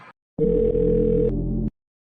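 A phone rings with an incoming video call, a steady electronic tone holding for about a second and a half, loud and close, with no one talking over it.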